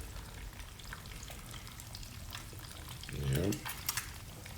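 Eggs frying in a pan for a Filipino longsilog and tosilog breakfast sandwich, a steady soft crackling sizzle throughout with a brief louder stir or scrape near the end and a short spoken word.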